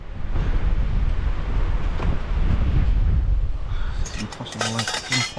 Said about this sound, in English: God, this wind is just determined to blow everything away.